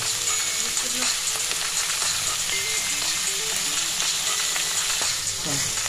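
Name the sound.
chopped vegetables and carrots frying in a wok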